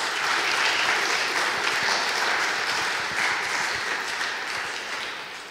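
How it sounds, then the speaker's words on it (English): A crowd claps steadily and loudly for several seconds at a physics tournament final, tapering slightly toward the end. "Big round of applause, please."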